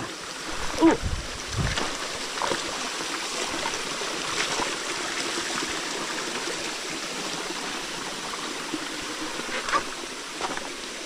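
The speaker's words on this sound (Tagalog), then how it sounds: "paalam po sa napakaganda mong falls" A waterfall in a rocky forest gorge pours with a soft, continuous rushing wash, moderately distant, broken by a few small splashes and knocks close by.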